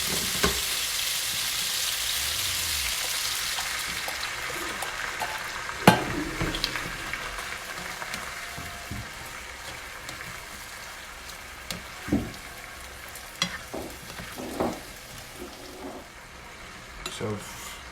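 Potatoes and ridge gourd fry in a pan with a strong sizzle at first that fades to a quieter hiss, broken by a few scrapes and clinks of a utensil against the pan.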